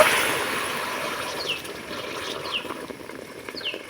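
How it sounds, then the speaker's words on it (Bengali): Water poured into a bowl of sugar to make syrup for sweets, a steady close splashing pour with faint higher chirps over it. "এক বাটি নিয়েছি চিনি দু বাটি দিয়ে দিব জল"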